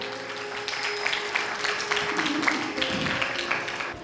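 A church congregation at St. Patrick's Catholic Church breaks into applause, a steady patter of many hands clapping at moderate loudness for several seconds.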